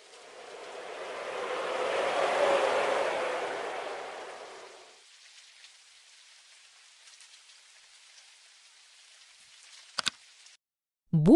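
A steady hiss of rain swells and fades over a few seconds, then gives way to near silence broken by a couple of sharp clicks.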